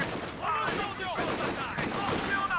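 Mortar rounds and gunfire crack and thud in a Company of Heroes 2 battle, a rapid cluster of bursts and impacts playing under a voice.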